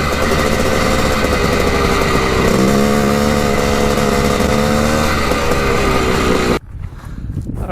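A 1980 Honda CR250 dirt bike engine, running lean, drones loudly and steadily up close, its pitch climbing slightly before it cuts off abruptly, leaving near silence with faint rustles.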